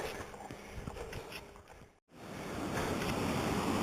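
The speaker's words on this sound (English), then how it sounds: "Coming to a real nice waterfall" Water rushing steadily from a forest waterfall and creek on a hike, with a broadband wash that briefly drops out near the middle and then returns louder and closer.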